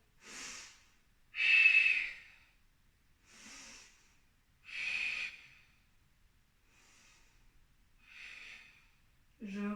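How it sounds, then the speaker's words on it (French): Slow, deep breaths during a hatha yoga breathing exercise, each inhale and exhale rising and fading in separate soft, airy swells with quiet pauses between, close and fairly faint. "Inspirez."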